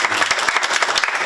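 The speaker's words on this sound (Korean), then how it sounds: "우리 일 열심히 하시는 방재단 분들한테 박수 한번만 주세요." A town hall meeting audience claps in a short, dense burst of applause, many hands at once at moderate loudness.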